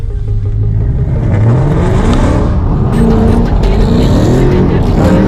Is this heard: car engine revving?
yes